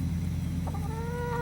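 A pullet gives soft, rising clucks and short calls while being handled for selection at a 4-H event, heard close over a steady low hum of background noise.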